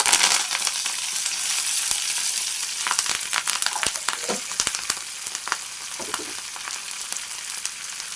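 Curry leaves and tempering spices crackle in hot oil for a stuffed bitter gourd dish, a steady close sizzle dotted with sharp pops and bursts of spitting throughout.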